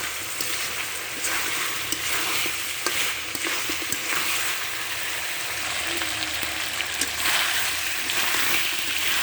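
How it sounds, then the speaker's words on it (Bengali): Chicken pieces fried down uncovered in oil with a pinch of sugar, a steady dense sizzle and crackle running throughout while a utensil stirs and scrapes through the meat, close and fairly loud. "আর ঢেকে দেবো না, এভাবে নাড়াতে থাকবো,"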